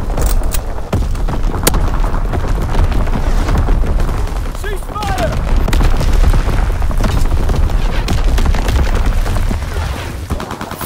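Artillery strike explosions from Call of Duty WWII on a Shipment 1944 domination map: loud, continuous booming blasts mixed with gunfire, rumbling steadily throughout with shouted voices in the mix.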